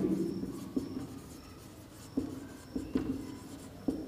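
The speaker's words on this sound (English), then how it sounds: "Now I write here given polynomial" A pen writing a polynomial by hand on paper, a soft continuous scratching with a few sharper taps as strokes begin, close and quiet with no voice over it.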